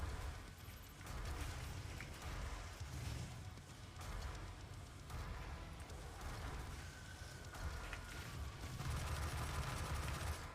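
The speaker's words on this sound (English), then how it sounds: "Take your rocket launcher and try and shoot some enemies there." Rocket launcher fire and enemy combat in DOOM (2016) at Argent Tower, a dense stretch of booming blasts and rumbling explosions in repeated bursts, loud and continuous with brief dips between volleys and no talk.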